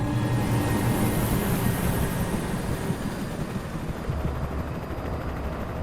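A helicopter in the video game Alan Wake Remastered thrums with a loud, continuous rotor drone and low rumble, holding steady and slightly fading toward the end.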